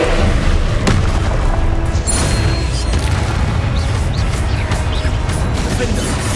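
Confringo fire spell blasts in Hogwarts Legacy, loud booming explosions and crackling impacts in a dense, continuous battle mix, with a voice shouting over them.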